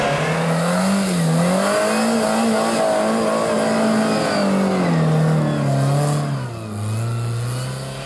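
A small-engined LuAZ off-road car labors in low gear on rough terrain, its engine droning and revving steadily, pitch rising and falling, then easing off near the end.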